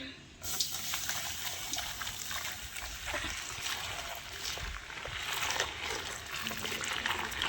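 Hot water pours into a container holding baking soda, ready for soaking kitchen towels; a steady, close splashing stream runs almost the whole time, with a voice faintly under it.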